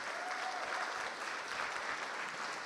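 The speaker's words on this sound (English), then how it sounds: "So can we begin with a huge round of applause," A crowd at a gallery talk applauds animation director Jorge Gutiérrez, with a brief, steady round of clapping heard from some distance and fairly quiet.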